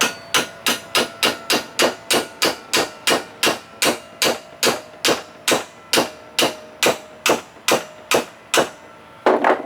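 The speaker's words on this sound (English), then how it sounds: "maybe I can just tap it with this screwdriver here" A screwdriver taps sharply on a Johnson 70 hp outboard's tilt and trim pump, giving about twenty evenly spaced, loud metallic knocks at a quick steady rhythm, close up and with no talk.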